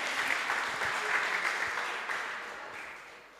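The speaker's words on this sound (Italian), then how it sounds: "gli facciamo un applauso che arriva al loro collegamento in video" Applause in a hall for award recipients joining by video link at a road-safety and responsible-drinking awards ceremony, moderately distant clapping from a gathered audience that gradually thins out.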